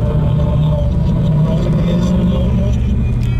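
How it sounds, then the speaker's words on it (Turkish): A car driving in the horror video game Slender The Arrival, a steady loud engine drone and road rumble that runs unbroken throughout. "Adam arabayı sürüyor."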